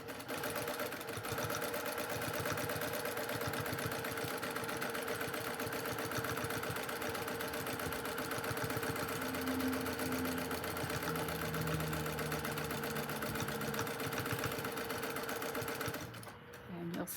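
Sewing machine stitching pieces of quilt batting together, a steady close whirring drone running continuously for most of the span before stopping near the end.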